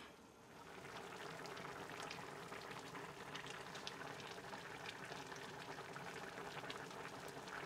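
Sichuan red-oil rabbit hotpot bubbling in a pot, a steady, dense boiling sound, fairly quiet and continuous, with no voices.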